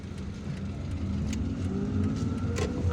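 Car traffic rumbles through a congested street in El Harrach, Algiers, a steady low engine drone with engines rising and passing, heard close from within the traffic and without talk.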